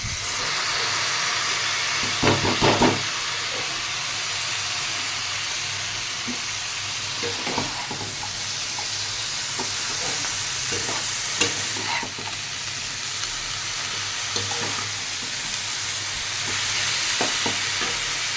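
Leafy greens (saag) and tomato stirred and fried in a pan, a steady sizzle and hiss with intermittent scraping clatter from the stirring, close and continuous, without voices.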